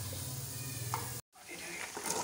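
Masala sizzles and crackles as it is stirred in a pan for a mixed vegetable curry of potato, peas and carrot, with a sharp cut to quieter frying and faint kitchen clatter.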